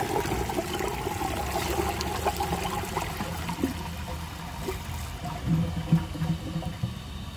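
A 1992 Universal-Rundle Atlas toilet flushing with too little water to clear the trap: a steady, close rush of water runs throughout, turning into louder gurgles and glugs near the end.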